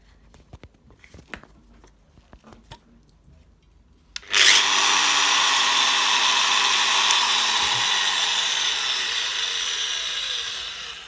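A 1.5 kW power tool with a speed regulator starts up after some quiet handling noises and runs at its second speed. It gives a loud, steady whine that eases slightly as it keeps running.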